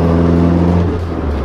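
A Toyota AE86 Trueno engine with four individual throttle bodies and high-lift cams revs loudly and close by, giving a strong buzzing harmonic drone that shifts as the revs settle.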